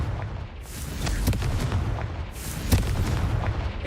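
Confringo fire spell explosions in the video game Hogwarts Legacy, with two rushing whooshes and several thudding booms and sharp pops over a rumbling background, fairly loud and close.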